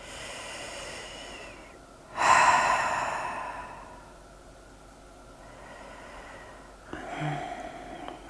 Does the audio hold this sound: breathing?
yes